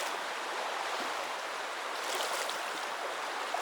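The Tallulah River flows by in a steady, even rush of water, a constant broadband hiss with no distinct splashes, heard alone at moderate distance.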